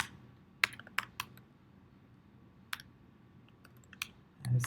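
Sparse, crisp keystrokes on a computer keyboard as HTML code is typed, a few quick clusters of clicks separated by pauses, close and fairly quiet, with no talking.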